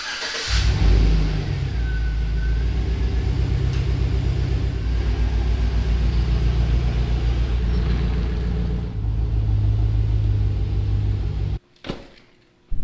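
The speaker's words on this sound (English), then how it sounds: "I'm actually parking my truck there to shield my fence from view from the street" A pickup truck's engine rumbles steadily as it is driven and eased into a parking spot, the tone shifting near the end before the engine cuts off, followed by a brief thump.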